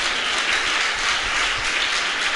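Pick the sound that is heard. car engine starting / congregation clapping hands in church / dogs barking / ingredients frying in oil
congregation clapping hands in church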